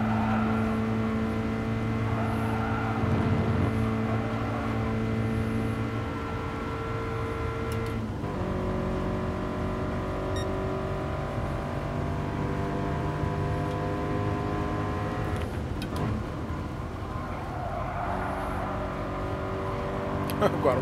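Toyota 86 in GT Sport racing at Yamagiwa, its engine note rising and falling through revs and gear shifts, loud and continuous, with someone talking over it.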